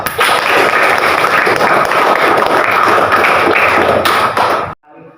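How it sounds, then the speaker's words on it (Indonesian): A classroom of students claps for a group presentation in an Islamic school lesson, a dense, steady burst of many hands lasting about four and a half seconds before cutting off abruptly. "Tepuk tangan untuk kelompok 2"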